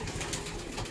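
A newly paired couple of breeding pigeons coo softly, a brief low murmuring call heard close and quiet over a faint background hiss.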